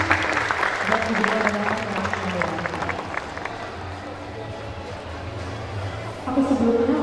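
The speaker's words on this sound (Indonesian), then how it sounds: "Next kita ada boleh tepuk tangannya sekali lagi teman-teman." An audience applauds at an event presenting smart and ergonomic product designs. Moderately loud, dense clapping fills the opening seconds under crowd murmur and a speaking voice, then fades as talk continues.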